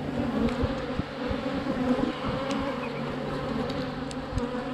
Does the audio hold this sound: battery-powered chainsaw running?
no